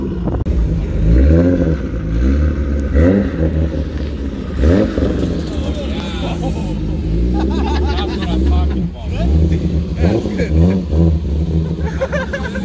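A 600whp turbo Nissan G35 coupe drives with its engine rumbling and revving in rising and falling pulls, loud and close, as people talk over it.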